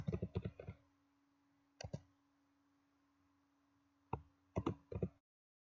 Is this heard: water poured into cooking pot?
no